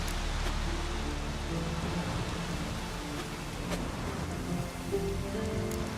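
Steady rain falling in The Witcher 3, a dense, even wash of drops on surfaces that holds at a constant level for the whole stretch, with a few faint tonal hints beneath but no voices.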